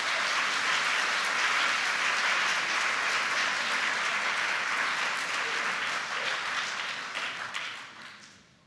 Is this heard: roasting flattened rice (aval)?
no